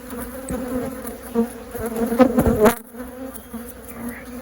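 Angry honey bees buzzing at an opened single brood chamber hive, a dense close droning hum with individual bees zipping past loudly, rising briefly then dropping.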